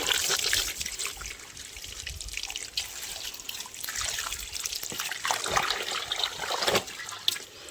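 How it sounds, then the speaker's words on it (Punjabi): Continuous splashing and trickling water, with repeated sloshing as towels are swished and lifted in a basin of clean rinse water; close and steady, no voices. "ਸਾਫ ਪਾਣੀ ਵਿੱਚ ਦੀ ਕੱਢ ਦਾਂਗੇ ਦੋ ਤਿੰਨ ਵਾਰ ਇਹਨਾਂ ਨੂੰ"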